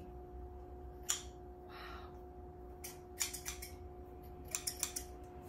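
Kitchen scissors from a CUTCO kitchen knife set are handled up close in a quiet room, giving a few crisp metallic snips and clicks, some single and some in quick clusters.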